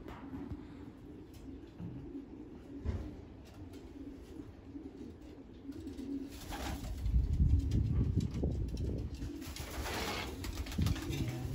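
Racing pigeons in a loft at De Scheemaeker Pigeon Center coo steadily in low, overlapping calls, close by, with a rumbling background swell and brief flutters partway through.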